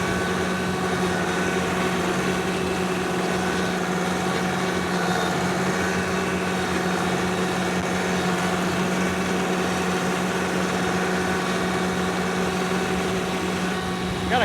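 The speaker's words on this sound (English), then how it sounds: "This mower, it makes it really mow nice." A Kubota LX3310 compact tractor runs an offset flail mower, and its engine gives a steady, continuous drone with a mowing rumble throughout, fairly loud and close with no talk.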